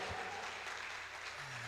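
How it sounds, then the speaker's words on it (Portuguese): A church congregation applauds for Jesus during a service, giving a soft, steady wash of clapping from a distance with a faint low tone underneath. "E um aplauso a Jesus, porque Ele merece"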